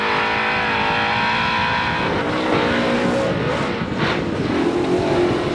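Off-road race truck running hard on the dirt track at Chula Vista during a CORR race, its engine a loud continuous roar with shifting pitch and brief tire scrabble, close and steady throughout.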